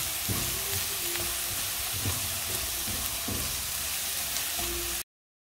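Onion fries in hot oil, giving a steady close sizzle with intermittent stirring scrapes, then the sound cuts off abruptly.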